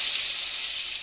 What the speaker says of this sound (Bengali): ওই গরম তেলের মধ্যে পটলগুলোকে এবার আমি ভেজে নেব।